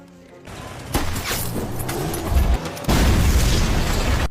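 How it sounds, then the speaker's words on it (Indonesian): A deep bomb explosion booms in a war action film, followed by rumbling and crackling debris, then a second louder blast roars through to the end. "disusul oleh ledakan bom yang sedari tadi mereka persiapkan"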